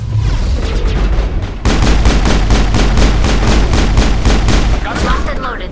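Rapid automatic gunfire in Mass Effect 1, a steady fast burst of evenly spaced shots lasting several seconds over a constant low rumble, then fading back to background noise.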